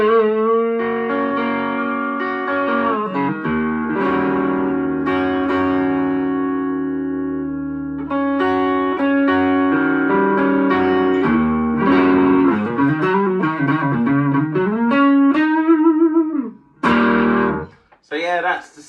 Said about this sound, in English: So yeah, that's the sound of the guitar.